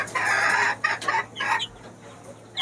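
Native domestic chickens on a small farm cluck loudly nearby in a few short, uneven bursts, first a drawn-out call and then quicker clucks, with quiet between them.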